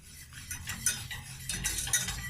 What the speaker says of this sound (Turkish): Yavaş yavaş hiç durmadan karıştırıyoruz çocuklar.